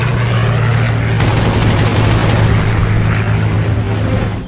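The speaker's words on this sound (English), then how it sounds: "I fired a very short burst." A Vietnam War jet fighter fires its aircraft cannons in a dogfight, a loud, dense roar of rapid gunfire that runs continuously through the clip over a low engine drone, with no voices.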